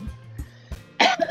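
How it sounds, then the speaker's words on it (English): A person coughs several times in quick succession, close and fairly loud, the last coughs harsher and more forceful. "I'm sorry for all the coughing"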